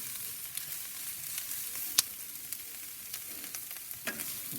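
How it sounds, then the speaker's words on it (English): Philly sandwich filling sizzles in butter on hot soapstone set on a Big Joe 3 grill, a steady soft crackle and hiss with a few sharper pops and no talking. "You can hear that sizzle, so you know it's doing something, right?"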